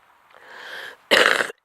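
A single sharp, loud cough bursts out after a quieter, rasping throat noise, close to the listener.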